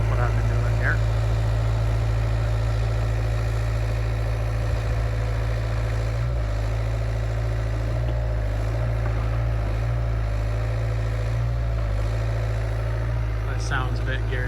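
An excavator engine plowing snow runs steadily at about 80% throttle, a constant deep droning hum that stays loud throughout, with a voice speaking over it.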